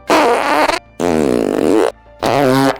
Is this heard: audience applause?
no